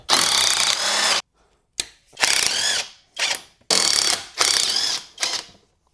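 Ratchet wrench removing the rear sway bar bolts on a BMW E91, clicking rapidly in about six bursts separated by short pauses, close and loud, with no talking.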